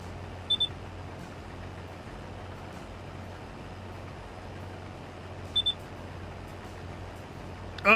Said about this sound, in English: You'll just have to put up with the beeping for a little bit.